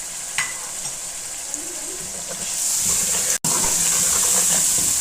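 Chicken frying with spices in a pan makes a steady hiss that grows louder partway through, with soft stirring scrapes underneath and a brief dropout near the end.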